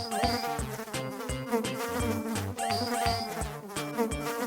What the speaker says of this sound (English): Wow, a lot of flies.